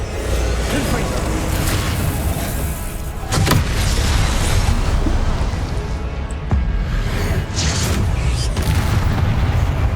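Spell blasts boom during a Hogwarts Legacy battle, loud muffled explosions bursting a few times over dense game noise and music, with a player talking intermittently.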